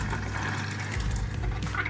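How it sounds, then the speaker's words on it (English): Water running down the water curtain of a spray booth on a scale modeling bench, a steady rushing and trickling flow that stays close and constant throughout. "Then, without airflow, we enable the water flow."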